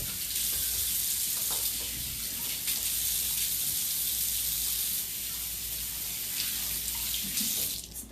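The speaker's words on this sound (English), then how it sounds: "So now I'm gonna wash my hands." Tap water running steadily into a sink while hands are washed in a home kitchen, a continuous close hiss and splash without pauses.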